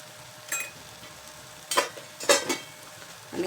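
Spices and potato stirred in a frying pan give a few scraping, sizzling strokes, spaced irregularly and growing busier toward the end, close and moderately loud.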